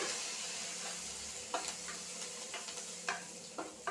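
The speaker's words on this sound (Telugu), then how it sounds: "ఆవాలు అయితే చిట్లిపోయినాయి." Spices and curry leaves sizzle in hot oil for tomato rasam, a steady soft frying hiss broken by a few sharp stirring clinks against the pan, with no talking.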